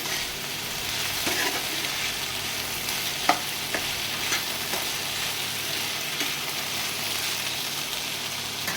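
Bitter gourd and potato pieces fry in a pan with a lightly sprinkled chili powder, a steady soft sizzle broken by a few clicks and scrapes of stirring, with no voices.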